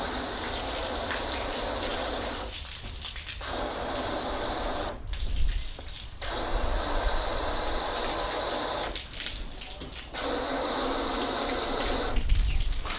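Water from a hose gushes over car panels coated with graphene sealants (303, Turtle Wax, Ethos, Bowden's Own) and sheets off them. Loud, close spraying comes in several long bursts separated by short pauses.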